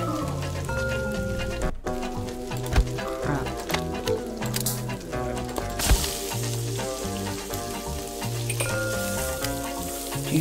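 Fries sizzle in the video game Cook Serve Delicious 2, a continuous frying hiss under upbeat game music with chiming interface sounds.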